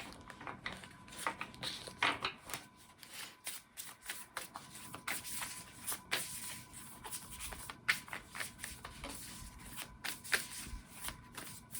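Oracle cards from a Sacred Destiny deck being shuffled by hand, a steady run of soft riffling and sliding card noise with crisp snaps scattered throughout, close and quiet, with no talking.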